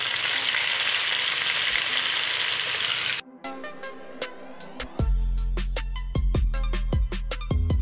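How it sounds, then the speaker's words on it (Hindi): Green chili paste hits a hot pan for chicken karahi: a steady loud sizzle, then a sudden drop as the paste goes in, followed by close stirring scrapes and clinks over renewed frying. "ये सब्ज़ मिर्ची का पेस्ट शामिल कर रही हूँ।"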